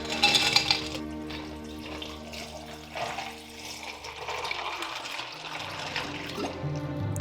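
Ice-cold water being poured or run for pie dough, a steady splashing flow with faint clinks of ice, close and moderately quiet, under background music.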